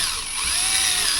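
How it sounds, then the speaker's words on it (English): Power drill whirring at steady speed as a bigger bit cuts a countersink bevel in a dinghy skeg fitting, a short continuous high whine close by with no talk. "with the drill"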